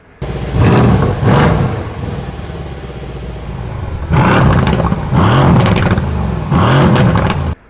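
A Jaguar F-Type V8 with its stock exhaust roars loudly through repeated revs. Deep, rising bursts of engine sound are separated by a steadier idle rumble.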